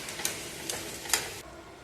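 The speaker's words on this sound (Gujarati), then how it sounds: "પછી બધું આપણે હલાવી લઈશું." A green corn chevda mixture being stirred in a pan, with three sharp ticks of a spoon against the pan over a soft, quiet sizzle.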